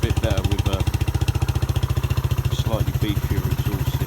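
A cafe racer motorcycle idles close by with a steady, rapid low thump throughout, while a voice talks over the engine.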